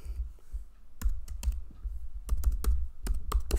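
Keys on a computer keyboard are typed in short, irregular bursts of sharp clicks over a low background hum, fairly close and moderately quiet.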